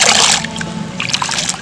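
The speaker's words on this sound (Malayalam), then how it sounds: "നല്ല വൃത്തിയിൽ കഴുകുക." Chopped tapioca being washed clean: close sloshing and splashing of water, loudest at the start, then lighter irregular splashes and trickles.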